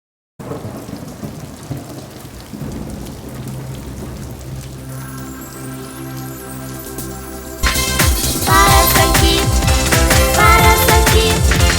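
Steady rain pours and patters throughout with rumbling thunder underneath, growing heavier and louder toward the end.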